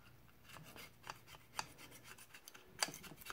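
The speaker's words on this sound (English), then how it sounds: "I just want to scrape that off and not scratch the actual aluminum." Old gasket material being scraped off an aluminum cylinder head from a Ski-Doo snowmobile, heard as repeated short, faint, close rasping strokes with a few sharper scratchy peaks.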